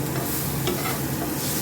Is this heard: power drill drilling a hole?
no